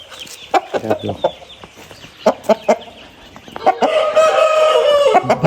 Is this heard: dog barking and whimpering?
no